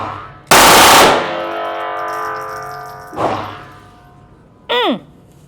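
A Taurus TX22 pistol fitted with an FRT trigger fires a loud, rapid burst, followed by a long ringing echo that fades away, then a short second burst and a brief whoop-like sound.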